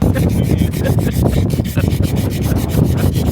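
Hand sanding on a wooden boat, a continuous close, loud scratchy rubbing with regular back-and-forth strokes and no talking.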